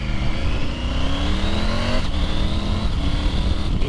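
Triumph Tiger 900 motorcycle engine pulling hard, its steady note climbing in pitch through several smooth quickshifter upshifts, loud and close with constant wind and road roar and no voices.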